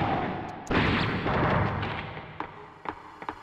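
A gunshot in the video game Vampire Hunter D: one sharp, heavy blast followed by a rumbling tail, then a few softer thumps and clicks from the game.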